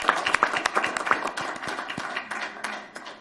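Applause from the audience at a city council meeting, dense and steady with sharper individual claps standing out near the front, gradually thinning toward the end.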